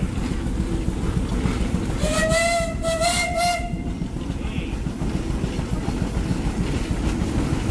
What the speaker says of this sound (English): 2390 Baker Uniflow Steam Traction Engine